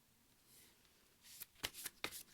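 Oracle cards being shuffled by hand: a faint soft rustle, then several crisp riffling bursts and snaps close by at low volume.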